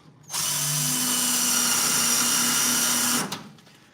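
A power drill runs steadily for about three seconds while boring holes in a car body, with a clear start and stop and a steady high whine throughout.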